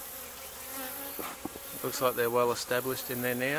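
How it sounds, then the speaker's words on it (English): A few bees buzz around an established hive fitted with a beetle trap, a faint steady hum under a man's close, quiet speech. "The bees aren't so savage today, there's a few flying around."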